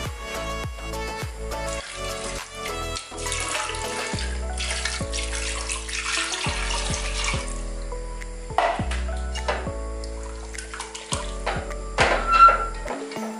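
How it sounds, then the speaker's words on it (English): Water pours from a tap into a cooking pot of stew with beans and fish, a gurgling, splashing flow with burbling pulses and small drips that rises and falls over several seconds. "Okay, so I'm going to add some water."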